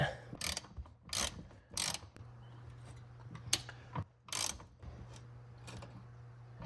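A 21mm socket wrench turns the nut on a strut for a Silverado 3-inch front quick lift, giving repeated short ratcheting clicks in bursts, fairly quiet and close, without talking.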